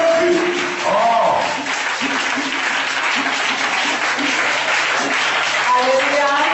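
A church congregation applauds and cheers for Jesus, sustained loud clapping and shouting from a crowd, with rhythmic clapping and voices calling out throughout.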